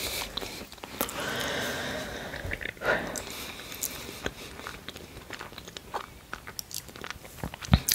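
Close, crisp bites into macarons followed by steady chewing, with sharp crunchy snaps near the start and end and quieter mouth sounds in between, no speech.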